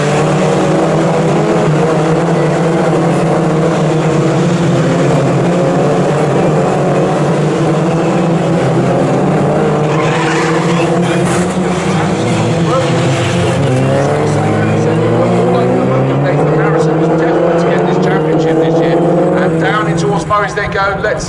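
Mini JCW race cars racing at Snetterton, a dense roar of several engines revving and changing pitch as the pack passes, loud and continuous under an excited commentator's voice.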